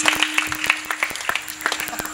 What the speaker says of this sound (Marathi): वा वा टाळी वाजवा एकदा.